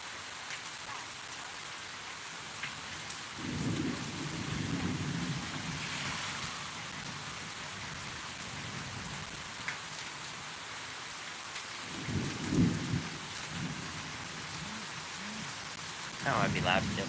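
Severe thunderstorm in Pittsburg, Kansas: steady rain patters throughout while deep rolls of thunder rumble several times, moderately close, with someone talking faintly at points.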